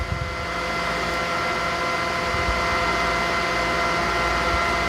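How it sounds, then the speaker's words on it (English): A TC 420 table top vacuum chamber machine pulling vacuum with its lid closed, giving a steady, loud, even mechanical hum and whir with no voices, constant throughout. "The vacuum's counting down. You can see the vacuum gauge is showing your vacuum pressure in the chamber."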